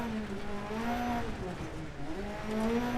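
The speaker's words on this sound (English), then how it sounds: "hit the throttle, get the engine revs up, and then you drop the clutch" A rally car engine in the Dirt Rally video game revs steadily during a clutch kick, its tone rising and falling under a continuous hum, with faint tire noise mixed in.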